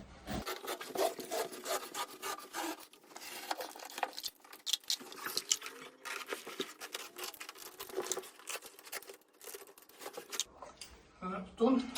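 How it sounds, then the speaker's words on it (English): A hook trimming tool cutting wool carpet along a floor corner during installation, giving close, continuous rasping and scraping strokes with soft patter. It ends in a brief louder knock. "I'll go up to the right corner, using our hook trimming tool."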